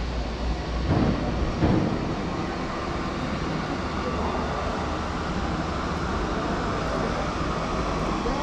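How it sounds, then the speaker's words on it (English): Cabin drone of a small propeller plane on a flight from Delhi to Dharamshala Kangra Airport, a loud, steady, broad engine roar that holds unbroken throughout with a couple of brief bumps near the start. "Very small flight, small plane actually,"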